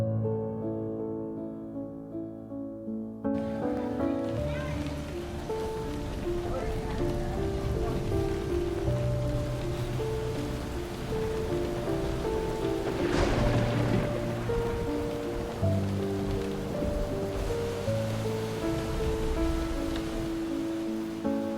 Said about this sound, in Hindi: अब बारिश ने हमें रोक ही दिया था